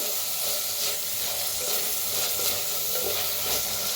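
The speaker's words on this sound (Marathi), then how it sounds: "आता छान भाजलेले आहे टमाटो कांदा" Tomato and onion fry in a clay pot with a continuous, even sizzle and light stirring, close and fairly loud with no voices.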